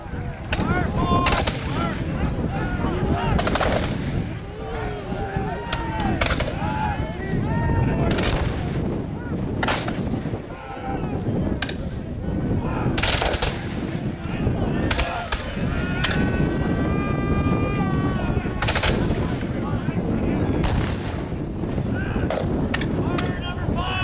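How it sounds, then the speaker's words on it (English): Musket volleys and artillery fire at a War of 1812 battle re-enactment of the Battle of Chippawa, with a loud, continuous barrage of overlapping gunshots and booming cannon blasts, plus wind noise and faint voices. "Now the gunners continue to fire away at each other. And you'll start to hear the disciplined volleys coming from both ranks."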